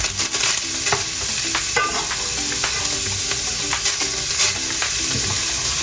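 Day-old rice for hamburger fried rice is stirred and scraped in a hot pan, sizzling steadily with repeated clinks of the utensil, close and loud with no talking.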